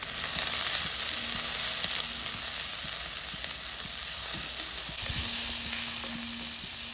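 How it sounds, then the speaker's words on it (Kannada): Mixed vegetables with sweet corn for a soup stir-fry in a hot pan, a constant close sizzle with scattered spoon scrapes and light taps, and no talking over it. "ಖಾಲಿ ಜಸ್ಟ್ ಈ ಥರ ಫ್ರೈ ಮಾಡಿದ್ರೆ ಆಯಿತು, ಸ್ಟರ್ ಫ್ರೈ ಮಾಡಿದರೆ ಆಯಿತು"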